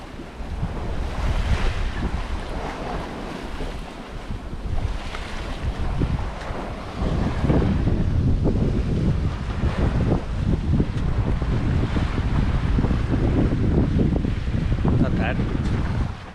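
Loud, constant wind roars and rushes against the microphone while heavy seas surge and crash around a sailboat crossing the Bay of Biscay in building wind. The rough water swells and breaks throughout.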